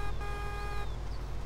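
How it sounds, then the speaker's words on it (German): A combine harvester's horn honks in Farming Simulator 19: a steady, buzzy multi-tone blast lasting under a second, loud over low engine rumble, followed by faint chirping birds. "Mal ein bisschen hupen, damit die wegfliegen hier."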